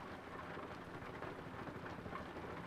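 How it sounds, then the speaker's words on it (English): Rain falls in Euro Truck Simulator 2, played in VR, as a faint, even, continuous hiss with no break or variation. "Oh man, it's raining out."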